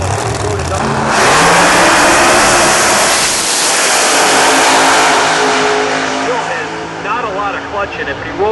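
A drag race car launches and roars down the strip at a full-throttle run, loud and sustained, then fades into softer engine sound as a commentator talks over it.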